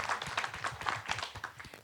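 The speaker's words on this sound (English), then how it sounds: "Big round of applause." Light, scattered clapping from a small group at a workshop session, quiet and brief, with individual hand claps distinguishable in an uneven patter.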